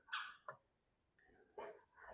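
A dog's squeaker toy squeaks a few times in short, thin, high bursts at close range during an RV trip, with quiet gaps between the squeaks.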